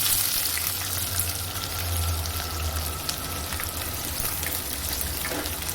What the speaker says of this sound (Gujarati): હવે આપણે આ ડુંગળી છે તો એ નાખી દઈએ